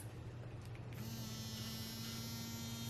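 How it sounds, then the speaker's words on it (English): A small electric travel toothbrush switches on about a third of the way in, then gives a steady, quiet, close buzz until the end. "So I have this travel toothbrush. It actually came with my electronic toothbrush."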